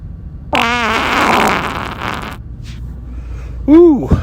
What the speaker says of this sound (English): Hold on, I gotta fart. Listen to this.